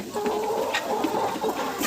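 Hens cluck and murmur in a steady stream, close by, with a few sharper squawks breaking through the busy flock chatter.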